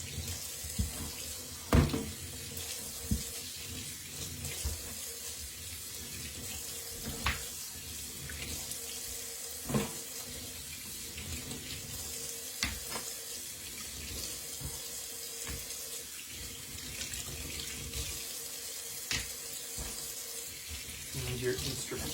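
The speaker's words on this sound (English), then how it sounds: "And then it's time to start rinsing" Tap water runs steadily into a sink while hot massage stones are rinsed, a continuous splashing stream punctuated by occasional clacks and knocks of stone, close and moderate in level, no talking.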